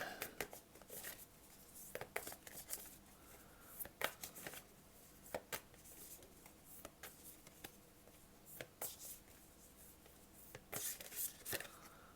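Cards being shuffled in quick riffling bursts, repeated several times at close range, with soft handling noises between them and no talking.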